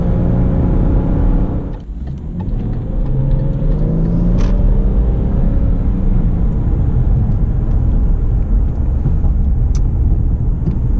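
A 2017 Subaru Legacy 3.6R Limited with its six-cylinder engine, heard from inside while driving: a steady, dense low rumble of engine and road noise with a brief dip early on.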